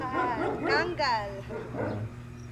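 Several dogs gathered near a cage let out a few quick barks and whimpering yips, fairly close, with people talking around them.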